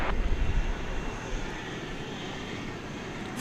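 Small fixed-wing aircraft passing at night at DFW Airport, a steady droning engine roar that is loudest at the start and then holds evenly, moderately near, with no voices.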